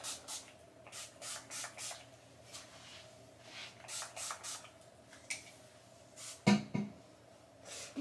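A brush detangling hair in a bathroom makes soft, rhythmic swishing strokes in short bursts, repeated at a steady pace, with a sharper knock near the end. No one talks.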